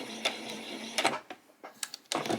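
A sewing machine stitches a skirt hem, starting with a short back stitch before running slowly around; the mechanical whirring comes in short, uneven bursts separated by quiet pauses.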